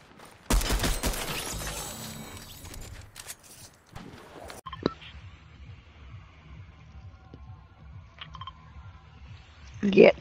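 Pistol shots in Fortnite, a dense run of quick sharp shots up front and a few isolated shots later, with players talking over the game.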